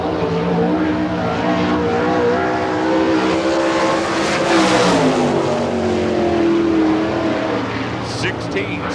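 Sprint race cars on a dirt oval roar past out of turn four at an All Star Circuit of Champions Spring Nationals race, engines droning loud and near with rising and falling pitch as they sweep by.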